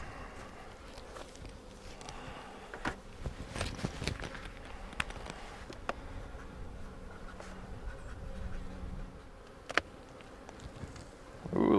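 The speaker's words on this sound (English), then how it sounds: "Ooh, a lot of bees." A low, steady buzz of many bees at an open hive fills the air, with scattered soft taps and knocks close by.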